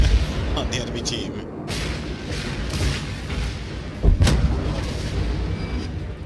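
Battleship Wyoming being torn apart by enemy cruiser gunfire in World of Warships, with repeated booming shots and thuds in a dense, continuous battle din, one louder blast standing out near the end, with a voice talking over it.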